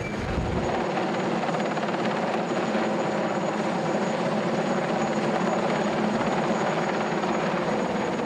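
Military helicopter flying nearby, its steady rotor chop and turbine roar loud and continuous, filling the whole stretch with no talk over it.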